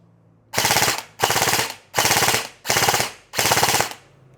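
Airsoft rifle fires five full-auto bursts, each about half a second long, loud and close, with brief pauses between them and no talking.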